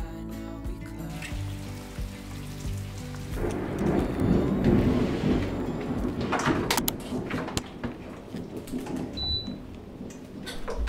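Rain falls steadily with deep thunder rumbling and rolling through the middle, a soft melodic background fading out early on as the storm grows fuller and louder.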